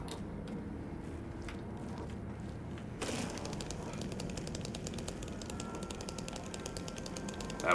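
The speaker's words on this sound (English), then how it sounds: "That was the sound of mannequins hiding." Mannequins hiding in the video game Silent Hill 2 give off a dense, ongoing mechanical clatter of creaks and ratcheting rattles that swells abruptly partway through and keeps grinding on over a dark, low rumble.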